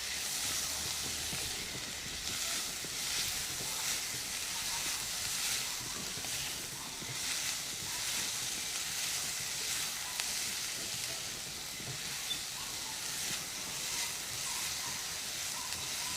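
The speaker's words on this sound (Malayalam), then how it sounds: "ചെറുതായിട്ടൊന്ന് വഴന്നാൽ മതിയാവും" Vegetables sautéing in a pan with soy sauce while making Chicken Beijing give a steady, close sizzling hiss with faint stirring scrapes, continuous and even throughout.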